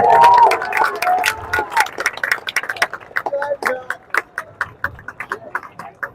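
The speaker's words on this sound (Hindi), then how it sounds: "जोरदार ताली बजाइए।" A political party gathering in Bihar greets its newly announced party president with scattered crowd clapping and cheering, which thins into separate irregular claps and shouts as voices carry on over them.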